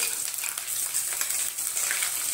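Green chillies and curry leaves sizzling in hot oil in a pan, a steady, close crackling hiss with no one talking.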